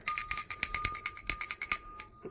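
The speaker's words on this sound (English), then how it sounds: "this is my bell" A small altar bell is shaken rapidly to cleanse a tarot deck, a bright ringing jingle of about a dozen quick strikes over two seconds, close and clear with no talk.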